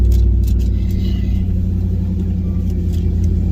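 Whipple-supercharged Ram truck engine at a drag strip, a steady deep rumble holding near and loud throughout with low harmonic drone and no clear revving peaks.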